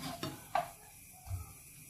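Chicken and mushrooms being stirred in a hot pan, a few close scrapes and clinks of the utensil against the pan over a soft sizzle, with short quiet gaps between strokes.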